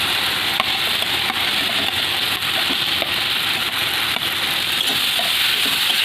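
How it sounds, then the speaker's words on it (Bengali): Fried cabbage and potatoes are stirred into spice paste in a hot pan for a Bengali rohu fish curry. The oil gives a close, constant sizzle with faint scraping stir sounds throughout, and no voices. "এবারে আমি ভেজে রাখা বাঁধাকপি আলুটা দিয়ে ভালো করে কষিয়ে নেব।"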